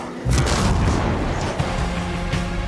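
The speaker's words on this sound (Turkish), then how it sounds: "Alın size bomba pis düşman." A bomb blast in the video game Dying Light: The Beast, a loud sustained booming explosion with rumbling debris lasting a couple of seconds, no voices over it.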